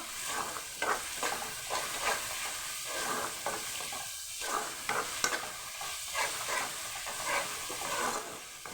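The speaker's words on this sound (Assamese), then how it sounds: "মছলাটো যেতিয়ালৈকে তেল এৰি নিদিয়ে তেতিয়ালৈকে ভাজি থাকিব" Oil sizzles steadily as a spice paste for chicken curry fries in a pan until the oil separates, with intermittent stirring scrapes and no talking.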